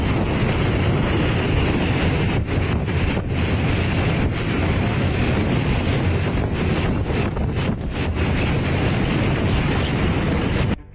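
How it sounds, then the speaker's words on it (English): Extremely strong wind batters the microphone in a constant, loud, full roar that barely lets up for the whole stretch, with occasional gustier buffets. "We've all experienced a windy day, but this is wind like you've never seen."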